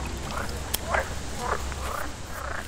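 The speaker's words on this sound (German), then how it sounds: "Amelie und Leila sorgen schon mal für mehr Sauerstoff für die Frösche" Frogs croak at a school garden pond in Karlsruhe: a few short, rough calls repeat at a moderate distance over steady outdoor background noise.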